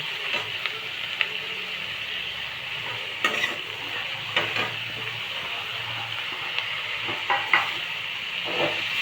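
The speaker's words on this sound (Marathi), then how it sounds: "असं आपण तेलावर फ्राय करून म्हणजे शिजवून घेणार आहोत" Onion, capsicum and mushroom frying in oil in a home kitchen, stirred with a utensil: a steady sizzle runs throughout, broken by scattered scraping strokes against the pan, with no talking.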